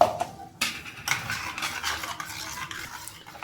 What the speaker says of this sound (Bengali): এবার আমি ভালো করে মিক্সড করে নেব।